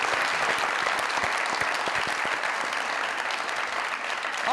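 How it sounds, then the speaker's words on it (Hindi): An audience at a comedy show applauds, a dense, steady wash of many hands clapping at once that keeps up at an even level throughout. "जरा जोरदार तालियां"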